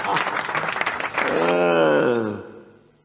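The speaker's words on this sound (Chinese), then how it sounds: "掌声鼓励。" Brief applause rises under a man's live-stream singing and chatter, then gives way to a sustained sung note that fades out.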